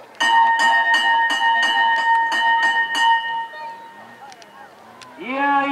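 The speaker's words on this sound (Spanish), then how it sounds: "Y hay campana de largada" A bell rings rapidly and repeatedly for about three seconds, loud and close, then stops as crowd noise and a voice follow.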